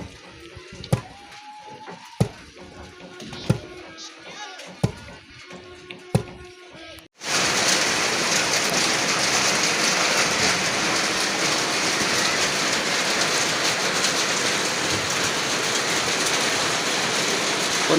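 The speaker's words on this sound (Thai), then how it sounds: "ฝนตกพี่น้อง" Rain suddenly begins pouring in a rural Laos village, a dense, steady hiss that fills the second half after sparse, rhythmic pounding thuds of rice being pounded in a mortar.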